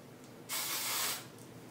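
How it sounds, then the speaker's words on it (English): A single short burst of hairspray from an aerosol can, sprayed onto hair being styled, gives a close, hissing spritz of about two-thirds of a second against a quiet room. "I don't use a lot of this because I really don't like the feel of hairspray"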